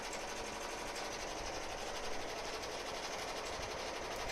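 A Ricoma EM1010 embroidery machine stitches the red of a mouth on an in-the-hoop hand sanitizer project in an 8x12 hoop, giving off a steady, fast, close mechanical chatter that runs unbroken throughout.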